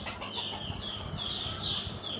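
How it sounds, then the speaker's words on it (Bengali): A rooster on a desi chicken farm makes short clucking calls over a steady background of other chickens and farm noise at moderate distance. "এটা হচ্ছে মোরগ"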